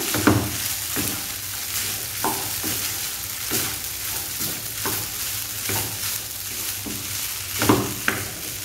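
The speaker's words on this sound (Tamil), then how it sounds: "இப்போ சாதம் சேர்த்து நல்லா மிக்ஸ் பண்ணிக்கோங்க." Cooked rice being mixed into a black urad dal preparation in a pan, with a repeated rhythm of spoon scrapes and soft thuds over a low, constant sizzle, close and without talking.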